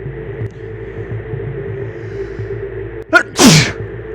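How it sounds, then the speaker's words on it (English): A single loud, sharp sneeze bursts out close to the microphone after a quiet stretch of low background hum, preceded by a brief intake of breath. "I'm gonna sneeze"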